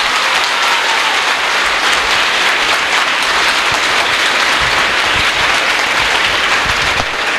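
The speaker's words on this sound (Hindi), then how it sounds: "आपकी तालियां बजेगी।" Audience applause fills a hall at a live stage magic show, a steady, loud wash of clapping from a large crowd that holds evenly throughout without pause.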